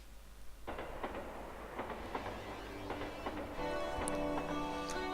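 A train rolls along its rails, steady clickety-clack beats over a continuous rumble, with a bright metallic squeal rising toward the end.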